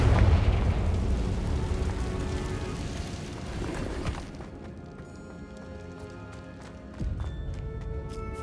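Confringo spell explosion in Hogwarts Legacy: a loud rumbling burst at the start that fades into crackling debris over several seconds, followed by a softer thump near the end.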